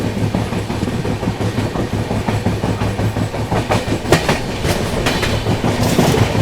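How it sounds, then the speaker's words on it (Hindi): An Arunachal AC Superfast Express runs on the rails near Ghaziabad junction, with steady rumbling and rhythmic clickety-clack of wheels over rail joints, close and continuous. "गाजियाबाद पे ही 2 गाड़ियों को ओवरटेक कर दिया भाई अपनी अरुणाचल एसी ने"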